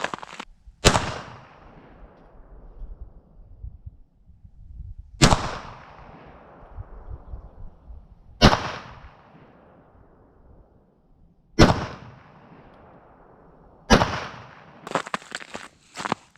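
A Kel-Tec PMR-30 .22 Magnum pistol fires five rounds at an outdoor range, loud sharp cracks spaced a few seconds apart, each with a short ringing tail, followed by faint rustling.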